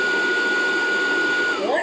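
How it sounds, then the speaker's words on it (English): A wet and dry vacuum cleaner hums steadily through its self-cleaning cycle, a loud continuous whine that shifts pitch near the end as the motor changes speed. "with this button you can turn on or off the maintenance or the cleaning cycle of this vacuum cleaner"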